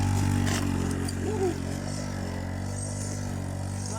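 A Peugeot 103 moped engine idles close by with a low steady two-stroke putter and a brief rev early on, while a voice talks over it.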